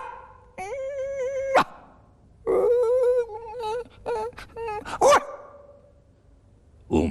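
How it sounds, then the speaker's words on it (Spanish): A dog whimpers in long, wavering whines broken by a few sharp barks, close and fairly loud, with quiet gaps between the bursts. "Un perro que había allí."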